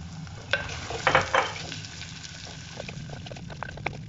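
Two onions with salt sizzle in a pan over a medium flame, with a few sharp spatula scrapes and clatters early on, then a steady frying hiss with light stirring.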